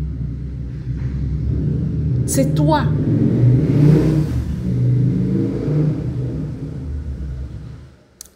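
Cars passing on a nearby road give a low rumbling engine swell that builds and fades, with someone speaking briefly over it.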